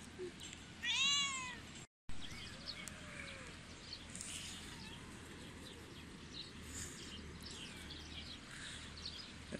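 A cat at an animal shelter gives a loud, drawn-out meow early on, followed by softer distant mews over a low hum of room noise, with a brief dropout just after the first call.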